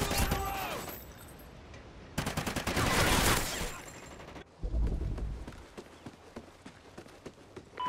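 Gunfire in the shooter video game Call of Duty: Ghosts, with loud bursts of rapid automatic fire broken by abrupt cuts, then scattered single shots and footsteps amid in-game effects.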